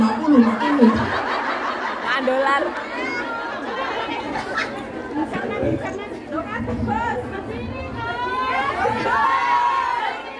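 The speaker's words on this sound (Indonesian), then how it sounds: "Karena terlalu banyak orang teriakan di sini." A large crowd at an Islamic religious gathering (pengajian) shouts, chatters and laughs over one another in a continuous loud, dense wall of voices, with children's shouts and bursts of laughter.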